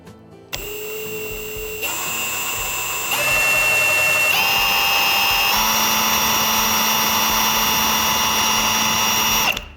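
Milwaukee 1-inch M1 cordless impact driver run up through its speed steps, a loud continuous whine that jumps to higher pitch in several distinct stages, alone without talk.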